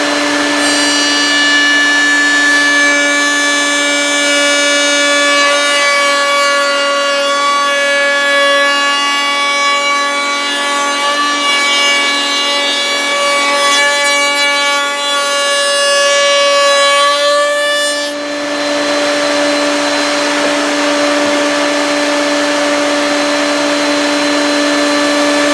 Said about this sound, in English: I've got a chamfer bit set up here in the router, and very noisy and dusty process.